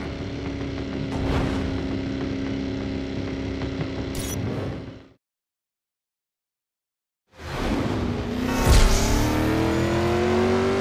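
A powerful car engine in the driving game Driver: San Francisco roars steadily, cuts to silence for about two seconds, then returns revving upward with a rising whine and a sharp thump.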